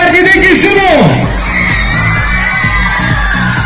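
A group of boys shouts and cheers loudly and continuously at close range, a dense crowd roar of young voices.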